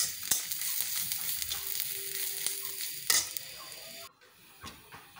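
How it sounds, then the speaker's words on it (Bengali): Chilies and garlic fry in a pan, a soft steady sizzle with occasional clinks and scrapes of a utensil, quiet and close, cutting out briefly near the end. "আমার মরিচগুলো আর রসুনগুলো ভাজা হয়ে গেছে"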